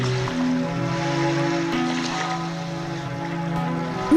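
A boat moves across open water, its steady low motor hum and broad water wash running evenly and alone without any voices, in a film scene set on the water.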